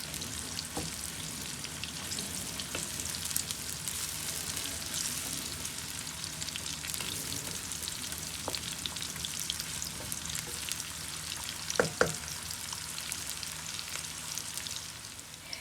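Onions fry toward golden brown for a green-herb keema dish with a soft, even crackling sizzle throughout and occasional light spoon taps, one small cluster of clicks near the end.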